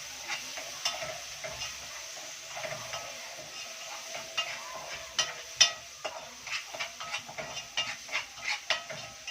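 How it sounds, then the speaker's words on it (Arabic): A quiet, even sizzle rises from Egyptian samna baladi ghee in a pan, with soft stirring scrapes and light clinks of a utensil against the pan growing more frequent toward the end. "معلقه سمنه بلدي بقى ونشوح"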